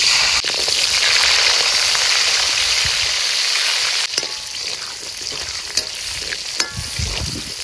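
Crushed small onions hit hot oil with mustard seeds for a village-style pork curry, giving a loud, continuous close-up sizzle with occasional stirring scrapes and pops.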